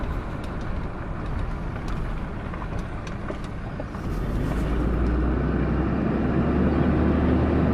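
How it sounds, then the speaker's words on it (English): A Cummins 6.7L pickup truck with a freshly rebuilt 68RFE transmission driving uphill, heard from inside as a steady engine drone that deepens and grows louder halfway through, with faint clicks and no talking. "I'm gonna be driving up this hill here now, so let's see how this goes."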